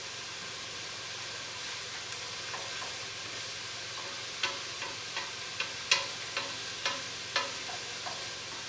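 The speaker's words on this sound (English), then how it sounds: "Now the onion is definitely starting to cook down, soften, so that's good" An onion softens in a pot for tortilla soup, giving a faint steady sizzle with scattered scraping clicks of stirring that grow more frequent toward the end, with no talking.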